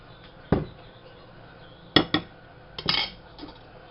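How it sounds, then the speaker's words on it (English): Flour and butter are worked together in a large mixing bowl for empanada dough, heard as a few sharp utensil knocks and scrapes against the bowl separated by quiet gaps. "in a bigger mixing bowl, I'm going to mix the flour and the butter together."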